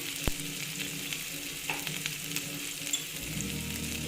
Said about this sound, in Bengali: আস্তে আস্তে ভেজে নিচ্ছি